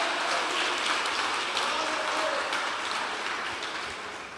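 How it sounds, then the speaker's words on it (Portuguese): Congregation applauding for Jesus at a church conference, a dense, steady wash of many hands clapping close and loud, fading slightly toward the end, with faint voices mixed in. "Aplauda Jesus o mais alto que você puder"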